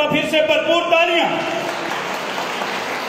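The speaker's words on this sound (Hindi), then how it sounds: "बच्चों के लिए एक मर्तबा फिर से भरपूर तालियां" An audience at a school quiz programme claps again for the children on stage, the clapping fairly loud and sustained, with a voice speaking over its opening moments.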